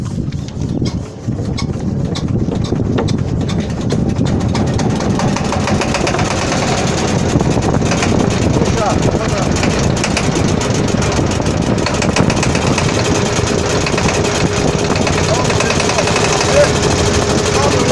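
A stationary MB13 motor installed on a small fishing boat runs steadily and loudly throughout, a continuous low engine drone with a rapid chugging pulse.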